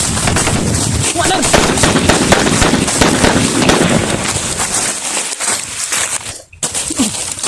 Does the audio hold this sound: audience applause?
no